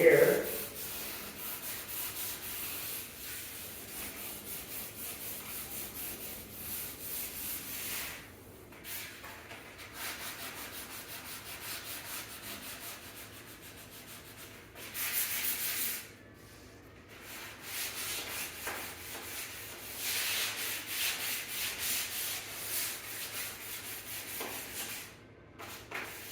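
Sandpaper rubs steadily across a mahogany finish in soft, continuous strokes with short pauses, faint and close.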